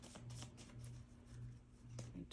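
Quick riffling of tarot cards being shuffled, a few soft rapid bursts repeating in a rhythm over a low background hum, quiet and close.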